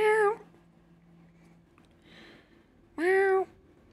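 Two clear meows from a house cat in the horror game Fears to Fathom: Woodbury Getaway, close and loud, a short pause between them over a faint steady hum.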